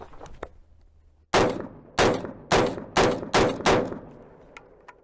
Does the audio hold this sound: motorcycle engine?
no